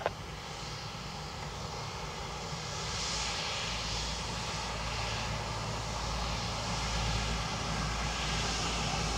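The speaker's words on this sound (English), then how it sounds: "Ryanair 9 Mike Papa Surface wind 320 degrees, 4 knots, runway 28 left, clear to land." A Ryanair jet lands on runway 28 left at Dublin Airport with a steady, distant engine roar that grows slightly louder and holds, and no talking.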